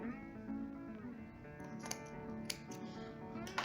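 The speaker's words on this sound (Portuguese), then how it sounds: "Vou cortar esse excesso de ribana aqui" Scissors trimming excess rib knit fabric on a pet jumpsuit, a few close, quiet snips over a faint background hum.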